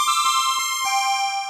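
A bright, piercing electronic keyboard tone rings out, a single sustained note with a sharp, buzzy edge that shifts slightly in pitch partway through.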